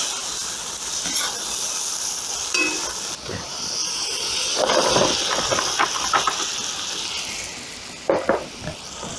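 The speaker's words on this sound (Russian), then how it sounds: "И теперь отправляем в казан нашу морковь." Carrots tipped into meat already frying in a kazan for plov hit the hot fat with a loud, steady hiss and sizzle, swelling in brief crackling bursts as the pieces settle; no one speaks.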